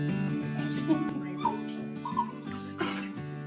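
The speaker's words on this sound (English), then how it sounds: "the dog can hardly contain herself, overflowing with happiness as she clings to her owner once again" A dog whimpers and yips excitedly on being reunited with her owner after months apart: high, wavering whines and short cries coming in quick bursts, close and fairly loud.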